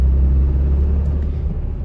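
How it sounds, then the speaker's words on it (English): Turbocharged engine of a 2025 Toyota Tacoma SR with manual transmission, a steady low rumble from inside the cab that eases slightly over the two seconds, with no voices. "super fun to drive, just hearing that turbo"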